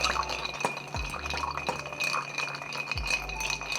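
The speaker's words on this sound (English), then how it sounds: "give it a stir for about 20 seconds." Ice being stirred with a bar spoon in a mixing glass of Negroni made with Vermouth Bianco, a steady run of soft clinks and swirling rattles, close and moderately loud, without talk.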